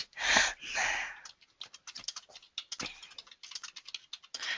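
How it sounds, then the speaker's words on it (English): Someone types on a computer keyboard, a quiet, irregular patter of light key clicks in quick bursts, preceded by a couple of louder, breathy rustling sounds at the start. "I'm going to finish typing that"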